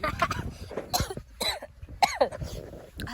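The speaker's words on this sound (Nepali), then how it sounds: "खोकी लाग्यो" A person on a trek from Kathmandu to Kokhedada coughs several times in short, harsh bursts close by, with a little voice sound between the coughs.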